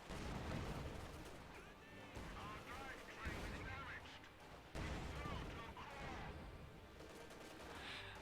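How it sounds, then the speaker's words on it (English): Katyusha rocket artillery barrage in Company of Heroes 2, heavy rumbling salvos and explosions rolling through the battle at low overall level, with someone talking over them. "That was a Kadusha rocket."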